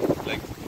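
Strong wind gusts roar and buffet the microphone during rain in the Maldives, a dense, steady rush with a brief higher swell midway.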